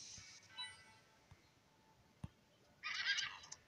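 A horse whinnies loudly near the end in the video game Équestriad World Tour, a bright shrill neigh after a few faint clicks and soft background sounds.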